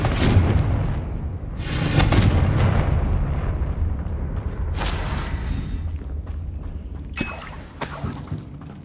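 Spell explosions burst in the Hogwarts Legacy video game combat, several sharp booms and crackling blasts scattered across the clip over a rumbling battle background, with no talk.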